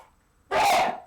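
A single sharp sneeze bursts out close and loud after a quiet moment, then fades quickly.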